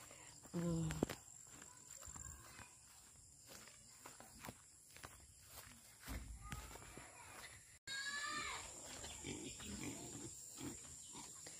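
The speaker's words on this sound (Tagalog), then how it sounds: "Hello, baboy." Pig grunts in a farm setting in Mabinay, Negros Oriental, mixed with footsteps and shuffling, a loud low burst early on, with someone speaking nearby and insects buzzing faintly in the background.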